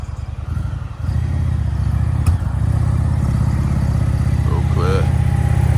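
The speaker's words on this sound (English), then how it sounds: "now we've got the Indian rolling out" Indian motorcycle, a 112-cubic-inch limited edition at a classic car and bike breakfast meet, rolling out with a deep steady engine rumble that swells after the first second, with a faint outdoor background.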